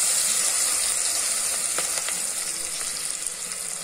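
Crushed garlic and curry leaves sauté in hot oil in a pan with a steady, bright sizzle and a few soft stirring scrapes, close by and with no talking.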